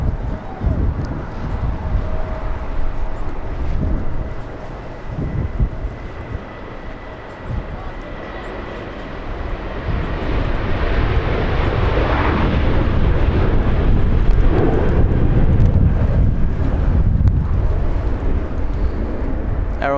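An Aeromexico airliner accelerates down the runway at LAX, its jet engine roar building from a steady rumble into a louder, broad sustained thrust that holds strong to the end, heard from beside the airfield with talk over it.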